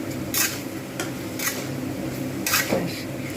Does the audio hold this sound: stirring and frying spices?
yes